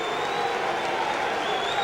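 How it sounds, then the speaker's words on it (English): A stadium crowd at a 1994 rugby league match between Huddersfield and Keighley Cougars applauds loudly as the Cougars take the field, a dense continuous roar of clapping and cheering with no clear gaps. "the rapturous applause rings round this stadium as the Cougars take the field"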